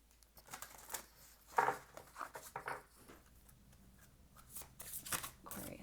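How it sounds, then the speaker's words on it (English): Tarot cards being shuffled by hand, soft papery riffling and patting that comes in irregular bursts, close and fairly quiet with no talking. "Let's do one more shuffle."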